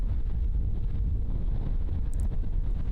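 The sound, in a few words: wind blowing on a disc golf course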